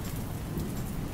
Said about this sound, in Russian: Ой, и дождь, кажется, заканчивается.